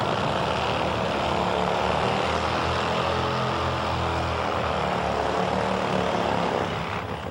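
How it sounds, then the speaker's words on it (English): Kevin Boyer's Top Fuel drag bike roars through a burnout at the strip, a loud, sustained, unbroken engine blast holding at full intensity for several seconds. "Let's listen in for the burnout from Kevin Boyer on his Top Fuel ride."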